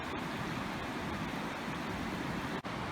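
A river flowing steadily past the point where its two forks rejoin at a campsite, a constant broad rushing wash that holds even throughout, with a brief sharp click near the end.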